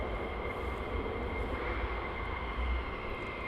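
Military jets, F-15s and F-35s, taxi at RAF Lakenheath, a steady broad rumble with a high whine held evenly throughout, moderately distant and without talk.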